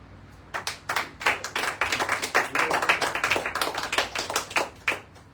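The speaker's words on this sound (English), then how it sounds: "Here's the applause like the sea coming" Steady, enthusiastic clapping from a crowd, swelling and continuing for several seconds without voices.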